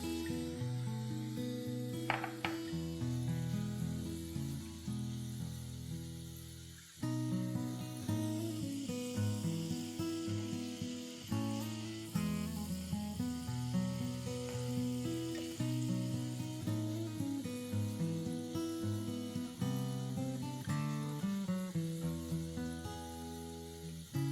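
Chana dal frying in hot oil, a continuous sizzle heard beneath louder music, steady throughout with little change.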